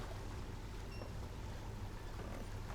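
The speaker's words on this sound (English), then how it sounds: "You and your companions watch the sea as your wagon rolls over the gentle waves." Low, steady wash of water against a hull, a constant rumble of gentle waves with no voices, continuous and unbroken throughout; a wagon rolling over the sea as a boat in a video game.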